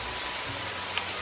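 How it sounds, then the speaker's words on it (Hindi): Heavy downpour used as a story sound effect, a steady, dense hiss of rain falling alone without talk, evenly loud throughout the short stretch. "राम मूसलाधार बारिश को देखकर बहुत परेशान हो जाता है"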